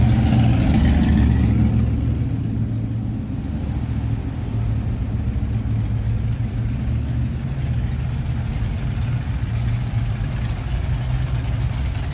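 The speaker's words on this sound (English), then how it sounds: "The cars cruise up and down for about," Cars cruising up and down a town main street during a car show, a continuous low engine rumble and idling with occasional revving, moderately loud and steady, with no voices.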